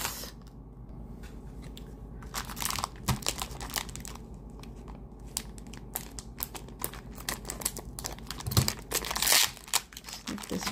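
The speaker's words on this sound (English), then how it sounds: "I'm just going to get the scissors for this." Plastic bag from a Goodwill jewelry haul being cut open with scissors: irregular close crinkling, snips and rustling, quiet with sharper bursts near the end, no talking.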